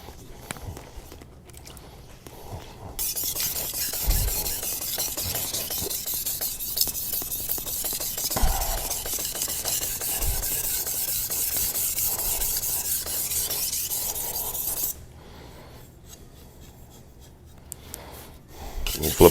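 A knife blade is drawn back and forth across a sharpening stone, a steady close rasping scrape running continuously for long stretches, pausing briefly near the end.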